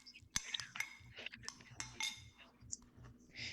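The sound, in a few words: stirring chopped green onions into a dish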